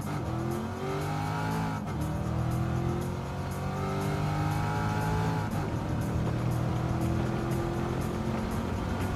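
A race car engine in Gran Turismo 7 revs hard and continuously, its pitch climbing and dropping through gear changes, loud and close with a faint tire squeal and no talk.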